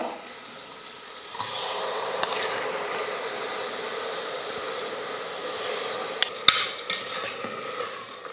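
Soaked rice and lentils being roasted in ghee for pongal, a soft sizzle with steady scraping and stirring in the pan, plus a couple of sharp utensil clinks.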